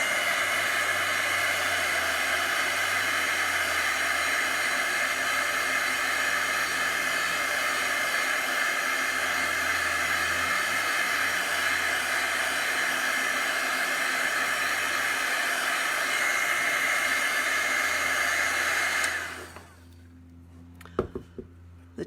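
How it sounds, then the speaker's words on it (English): A hair dryer runs at a steady, loud, breathy roar for nearly twenty seconds, drying chalk paste on a framed chalkboard, then cuts off abruptly, leaving a few faint handling taps. "I think I'm going to dry this and do add a little bit more to it."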